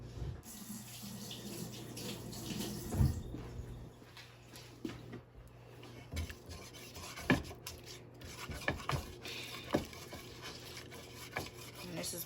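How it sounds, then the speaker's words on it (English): Tap water runs steadily into a kitchen sink while hands are rubbed and washed under the stream, a close continuous splashing with occasional louder splashes and knocks. "Wash my hands."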